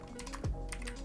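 Quick computer keyboard keystrokes click nearby as code is typed, a few crisp taps within about a second with a low thump partway through and no talking.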